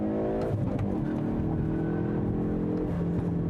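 A Hyundai Veloster N hot hatch pulls hard after a clutch-dump launch, its engine note climbing in pitch as it accelerates. The sound is a loud, steady engine roar with no talking.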